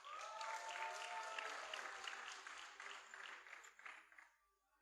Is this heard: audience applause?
yes